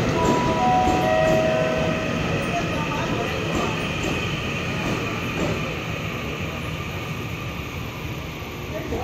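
Taiwan Railway local express train 4026 rolls through Luodong station with a loud rumble and wheel clatter, while tonal station chimes and a public-address announcement sound over it.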